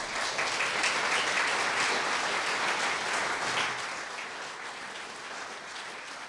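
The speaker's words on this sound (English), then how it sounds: "So I really like you to give a round of applause again to Kate and to John." Sustained audience applause at a botanic guides conference, a full room clapping steadily before it slowly fades toward the end.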